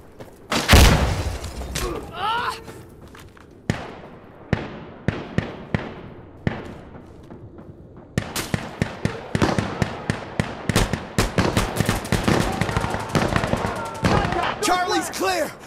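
In the Insurgency: Sandstorm video game on the Ministry map, a loud close grenade blast is followed by scattered single gunshots, then a dense stretch of rapid rifle fire with shouting voices mixed in.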